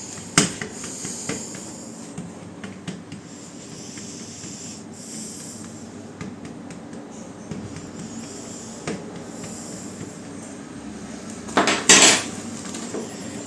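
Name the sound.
pricking a pastry base with a fork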